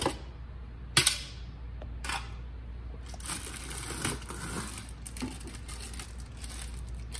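Zero water filter pulled from its plastic packaging, close crinkling and crackling of plastic with a sharp snap near the start and steady rustling throughout.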